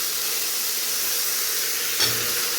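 Beans, carrots, radish and kohlrabi hitting a hot pan for vegetable sambar, giving a steady loud steamy hiss that sizzles continuously, with a small burst partway through.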